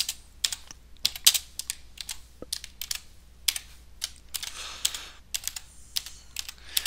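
Text being typed on a computer keyboard: quick irregular bursts of close, crisp key clicks with short pauses between words, no talk over them.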